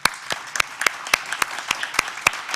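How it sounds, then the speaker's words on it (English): Sparse applause for a panel at a coalition meeting, a modest audience clapping in distinct, fairly regular claps of a few hands rather than a full ovation. "just one more round of applause for our panel"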